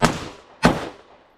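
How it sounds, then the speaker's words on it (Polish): Two sharp rifle shots about half a second apart, each a loud crack with a short decaying tail. "Dwa strzały."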